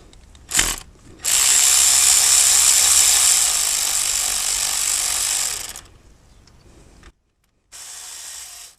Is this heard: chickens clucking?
no